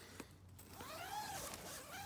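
The front door zipper of an Alpkit Soloist tent being pulled, one quick faint zipping run heard up close and alone.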